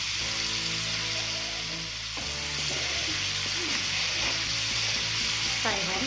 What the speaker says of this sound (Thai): ผัดให้หอมเลย